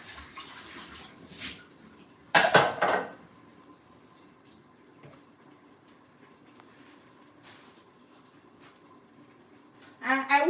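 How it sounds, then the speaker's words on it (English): A plate is rinsed at a kitchen sink with water and a couple of brief dish clatters, first near the start and then again at the end, with long quiet stretches between. "So let me rinse out this plate, then I'll come back."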